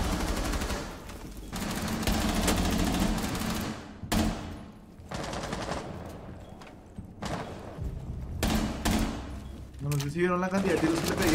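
Bursts of rapid gunfire from Rainbow Six Siege crackle over a busy, layered mix of game sound effects, coming in repeated volleys separated by brief lulls.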